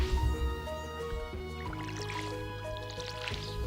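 Watering a parsnip plot in the video game Stardew Valley: soft drippy, squishy water splashes play over a steady tonal background music bed, with no talking.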